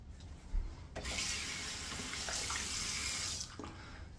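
A bathroom tap runs steadily for about two and a half seconds as water is used to wet the face during a safety-razor shave, close and fairly loud, with quiet handling before and after.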